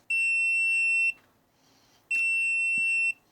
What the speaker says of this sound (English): Okay, we have our beep.